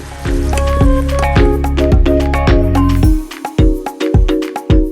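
Mushrooms hit hot garlic-flavoured oil in a pan, a loud, steady sizzle with wet squishy crackles that thins into scattered spits and pops near the end.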